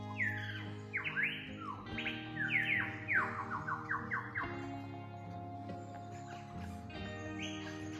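A lyrebird in the forest of the New England region near Glen Innes pours out a rapid string of mimicked calls, swooping whistles and harsh squawks imitating a cockatoo, a koala and other birds, clear and fairly close.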